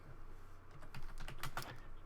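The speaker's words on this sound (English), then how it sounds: "I'm typing in the wrong thing here" Quick, steady typing on a computer keyboard at a desk during a home brewing talk show stream, close and fairly faint clicks with a few sharper keystrokes.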